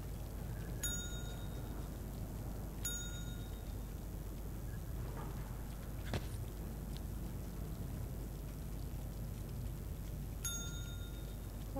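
Bell dings in the video game Singularity, three bright metallic rings spaced a few seconds apart over a low, steady ambient hum, each decaying quickly.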